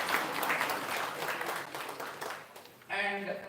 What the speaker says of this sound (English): So please give a big round of applause for sir.